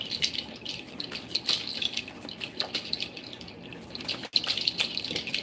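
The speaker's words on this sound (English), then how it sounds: "I love the sound of water." Water runs steadily at moderate volume with a broad hissing splash and scattered drips, sounding like a tap or small stream flowing without pause, with no voices over it.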